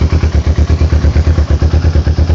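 A Kawasaki Ninja motorcycle engine idles loudly and close after its first start, with a fast, even, pulsing thump that continues throughout.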